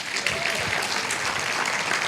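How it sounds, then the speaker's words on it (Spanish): A church congregation breaks into steady, dense applause at a sermon service, a continuous wash of clapping filling the room from start to finish with faint voices mixed underneath. "Un aplauso para Luis"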